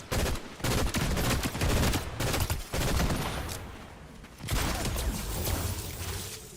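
Bursts of gunfire from the Fortnite video game, with dense rapid volleys and short pauses between them, loud and continuous across the whole stretch.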